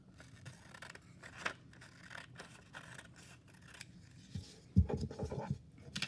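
Scissors snipping out paper boxes at a desk, a series of quiet crisp cuts and paper scratches, with a louder cluster of snips near the end, close to the microphone and with no talking.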